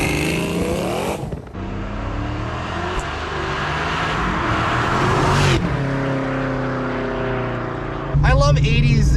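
A supercharged 1986 Ford Mustang GT with a belt-driven supercharger revs loudly and close, rising and falling through several sharp climbs in pitch, with one quick blip near the end.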